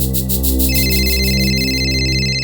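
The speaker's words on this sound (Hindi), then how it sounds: "आपका फोन बज रहा है" A telephone rings loudly and steadily on its own in a crime drama scene, an electronic ringtone with bright repeating tones over a sustained low hum.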